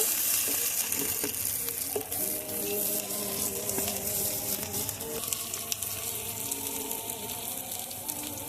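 Chopped onion frying in a pan for rohu fish-head ghonto, a close steady sizzle with stirring clatters and occasional scrapes, no talking.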